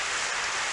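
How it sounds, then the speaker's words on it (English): Cold rain pours down intensely by a seaside cliff in the visual novel game Never7, a dense, steady hiss of falling water filling the short stretch, close and continuous with no voices. "Cold rain intensely beats down on Saki's back."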